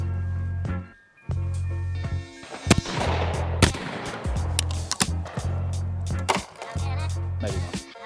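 Beretta 687 E over-and-under shotgun fired at clay targets outdoors: several sharp, loud shots spaced a second or so apart over a steady low engine-like hum, with no talk.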